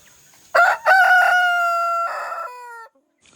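A big rooster crows once, loud and close, in a single harmonic call of about two seconds that starts sharply and fades at the end, with no other sound around it.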